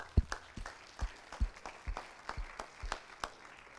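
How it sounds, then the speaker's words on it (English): High school assembly audience claps for students in a sparse, uneven patter of individual claps spread out over a few seconds, fairly quiet and with no talk. "let's give those students a round of applause"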